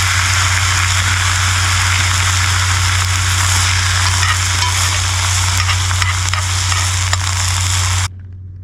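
Ribeye steak sizzling loudly and steadily in a pan of onions at a vineyard campsite, a close, dense frying hiss that runs unbroken before suddenly dropping away near the end.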